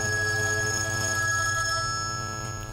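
A Simvalley PW 315 smartwatch rings with an incoming call, a steady repeating electronic ringtone with sustained tonal pulses, loud and close, alone without talk, fading slightly at the end.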